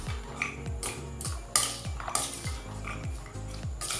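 A spoon clinks and scrapes rhythmically against a bowl while boiled corn is tossed with chili powder, cumin powder and tomato sauce, giving repeated metallic taps and rattles with no talking.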